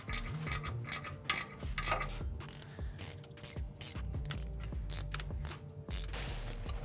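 Bolts on a Nissan Silvia S14 limited-slip differential being tightened with a ratchet, close repeated metallic clicking strokes in steady bursts, with tool clinks and a low background hum, no speech.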